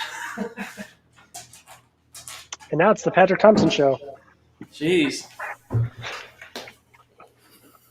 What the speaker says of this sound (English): let me get my dog out of here because she's driving me bananas